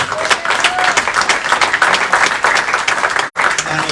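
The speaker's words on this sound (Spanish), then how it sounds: "¿Cuántos le dan un aplauso al Señor?" Church congregation applause during a sermon, loud and sustained, with many hands clapping in a busy, uneven texture and a faint murmur of the crowd, broken by a very brief dropout near the end.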